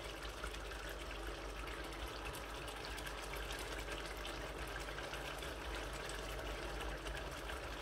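Water poured into a pan of kadahi kebabs cooking in a kitchen, giving a steady, continuous hiss and gush with no pauses and no speech.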